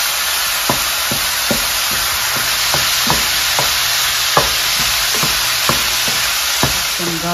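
Ground hamburger meat and onion frying in a pan for homemade tacos, a steady broad sizzle with a dozen or so sharp scraping clicks of stirring spaced through it, fairly close and loud, no talk.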